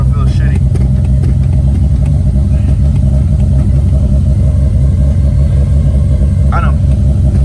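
A car engine runs close and loud with a heavy, continuous rumble while a repaired transmission is tested for wheel speed, with brief faint noises on top.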